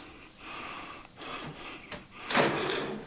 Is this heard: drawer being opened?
yes